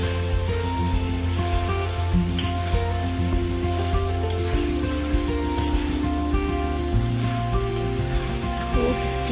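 Potatoes and chicken in spices sizzle steadily in hot oil in a pan, a continuous close frying crackle with occasional stirring scrapes.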